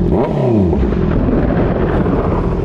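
A 2024 Honda CB650R with an IXIL full-system exhaust revs hard, its loud engine note sweeping up and down in rising and falling pitch before settling into a steady, rumbling roar.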